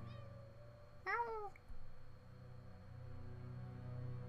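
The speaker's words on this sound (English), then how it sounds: "Did you hear that? Meow." A cat meows once in the video game Impostor Factory, a short clear rising and falling cry over a steady low ambient drone, with a brief thud after it.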